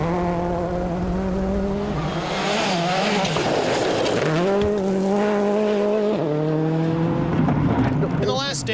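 Rally cars blast through a dusty gravel stage at the Acropolis Rally, engines revving hard and shifting up and down with gravel scraping, loud and close, while a commentator talks over them.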